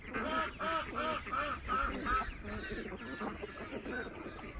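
Ducks quacking busily in a new pasture, a flock of overlapping rhythmic calls close by, loud at first and then thinning into scattered quacks.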